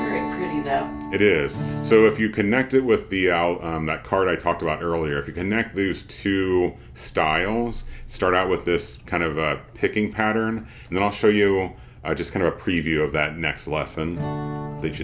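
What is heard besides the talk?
None of the usual background noises is heard.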